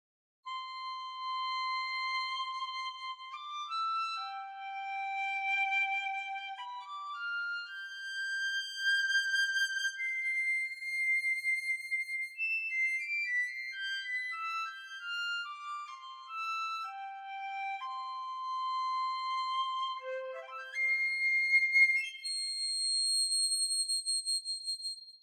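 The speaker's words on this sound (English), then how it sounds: "there's that dog whistle high pitch of a piccolo" A sampled piccolo from an orchestral woodwind library plays very high, pure whistle tones as a slow, delicate melodic line of sustained notes, clean and isolated, with no talking.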